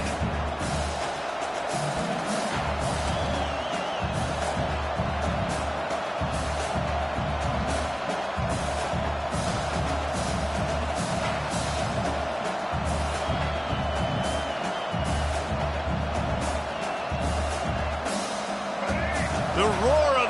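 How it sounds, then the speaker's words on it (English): A stadium crowd at a college football game between Michigan and the Gamecocks roars continuously, a dense sustained wall of cheering with scattered whoops, heard under a commentator's play-by-play. "The roar of the crowd trying to fuel this defense to keep them pinned in their own end."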